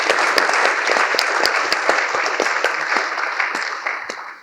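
A live audience at a panel discussion breaks into loud, sustained applause, a dense wash of clapping that fades slightly toward the end.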